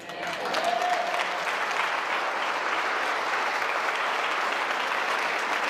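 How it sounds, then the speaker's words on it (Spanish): A Christian church congregation applauds during a pastor's sermon, the clapping swelling in quickly and then holding as a steady, moderately loud wash of many hands with no talk over it. "Dale un aplauso al Señor."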